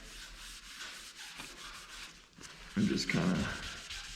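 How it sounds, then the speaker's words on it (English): A rag rubbing wood stain into a custom wood coffee table, a soft, steady scrubbing swish close by that grows louder near the end, with someone talking over it. "Just keep working it in, kind of rub it in, and then immediately"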